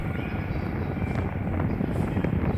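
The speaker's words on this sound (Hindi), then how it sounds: "हवा से ऊपर में उठाया बाइक को।" A pneumatic air lift raises a Bajaj NS160 motorcycle in a service workshop, producing a continuous loud roaring hiss of air that stays steady throughout.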